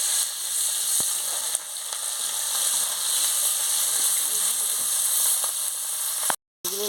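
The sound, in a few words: rohu and bata fish frying in hot oil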